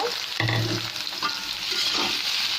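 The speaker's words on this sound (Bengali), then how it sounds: "দিয়ে ভালো করে পেঁয়াজ আর রসুনের সাথে মিশিয়ে নিচ্ছি" Boiled bottle gourd greens are stir-fried with onion and garlic fried until reddish, a continuous crackling sizzle with a few spatula scrapes and knocks against the pan.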